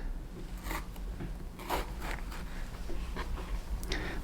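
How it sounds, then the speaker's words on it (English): Knife dices a rinsed tomato on a cutting board, quick soft chops and scrapes in an irregular rhythm, close and quiet. "I rinsed off this tomato, and we're just going to dice it."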